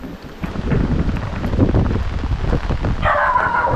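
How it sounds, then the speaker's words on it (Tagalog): Strong storm wind roaring and buffeting the microphone, with heavy rain noise mixed in and a brief higher rustle near the end, in San Fernando, Sorsogon, Philippines. "Lakas ng hangin."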